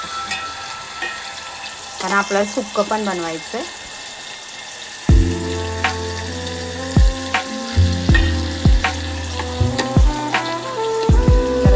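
Whole spices crackle and sizzle in hot oil as tempering for a dry chicken dish, with sharp clinks and stirring knocks from the pan while someone talks over it.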